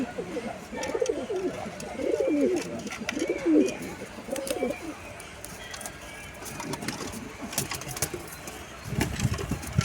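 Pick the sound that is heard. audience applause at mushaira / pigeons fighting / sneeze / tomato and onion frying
pigeons fighting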